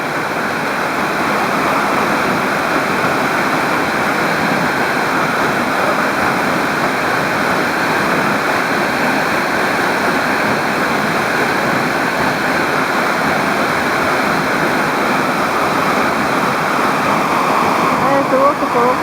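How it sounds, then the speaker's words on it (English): Amarun Falls waterfall in Ecuador's Amazon roars as a dense, unbroken rush of falling water, loud and close throughout, with a voice faintly present beneath the steady torrent. "There's the waterfall."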